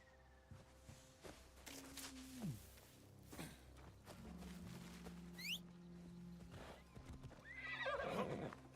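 Horse hooves clip-clop in a video game, Assassin's Creed Shadows, with several whinnies and neighs rising above the steady footfalls and a quieter game ambience.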